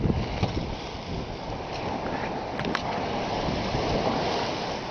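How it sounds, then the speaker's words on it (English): A sailboat runs dead downwind across the open sea north of Bali, with steady rushing water and wind noise washing over the hull throughout. "Here I am sailing dead downwind."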